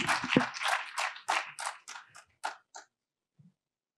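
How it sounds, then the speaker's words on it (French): Audience applause at an advertisers' awards ceremony, a short burst of claps that thins out and stops within about three seconds, followed by near silence. "Vous applaudissez encore une fois, puis on va vous remettre le trophée"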